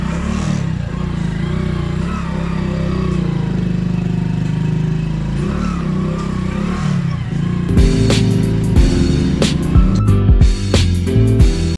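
A motorcycle engine runs steadily with a low rumble throughout, then rougher bursts and sharper knocks toward the end as it revs, loud and close.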